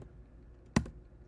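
A couple of crisp keystrokes on a computer keyboard ring out close and sharp in a quiet room, one right after the other.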